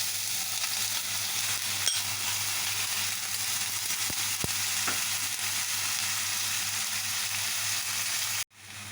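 Onions fry in hot oil with asafoetida and five-spice seeds for an arbi dish, a steady close sizzle with a couple of faint stirring clicks before it cuts off abruptly at the end.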